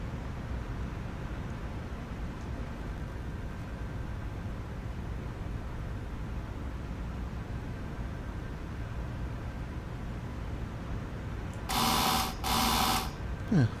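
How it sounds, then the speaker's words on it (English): Two loud electronic train door buzzers back to back near the end, warning that the doors are closing, after a long stretch of steady low rumbling noise, in the Train Sim World 2 video game on the Harlem Line. "that buzzer is letting passengers know that the doors are closing"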